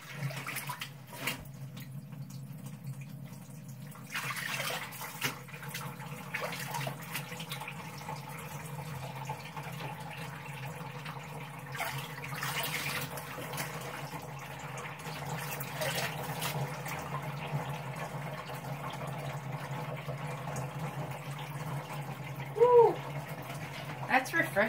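Cold tap water runs steadily into a sink for washing laundry by hand, a continuous close splashing hiss that goes on throughout, with a person talking over it at times.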